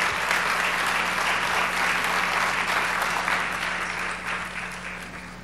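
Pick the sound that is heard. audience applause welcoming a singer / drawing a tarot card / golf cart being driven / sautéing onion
audience applause welcoming a singer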